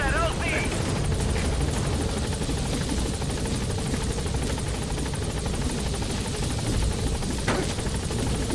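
Pequod helicopter arriving at a landing zone in Metal Gear Solid V: The Phantom Pain, with a loud, close, continuous rotor thump and engine drone, and a voice speaking over it.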